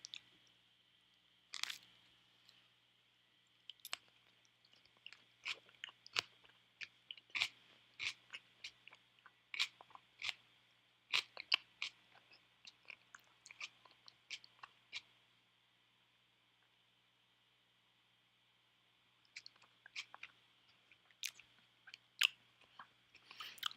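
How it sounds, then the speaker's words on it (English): Someone chews a bite of kimchi with meat and peanut butter in close, moist, crunchy bursts that come in irregular clusters, with a quiet pause near the end before the chewing starts again. "so now I'll get a bite with actual meat of the stuff."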